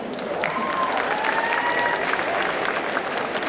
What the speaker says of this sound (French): Donc on applaudit ce moment un peu tendu